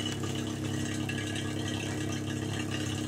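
An oil extractor hose draws hot oil out through a car's dipstick tube and starts sucking air, giving a steady close rattling gurgle and whir that runs continuously without talk.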